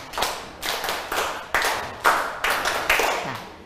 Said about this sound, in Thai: ขอเสียงปรบมือ10ครั้งกันนักเรียน